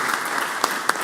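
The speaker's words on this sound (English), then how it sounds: "Let's give Jan Collins a warm round of applause" Continuous applause fills the Mississippi Senate chamber for Jan Collins, a steady wash of many hands clapping, with a couple of sharper nearby claps standing out.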